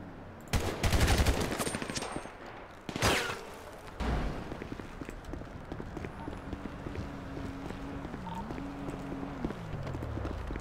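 Bursts of automatic gunfire ring out in a multiplayer shooter game, a couple of loud rattling volleys near the start, then quieter scattered shots and game noise, with a player's voice speaking faintly.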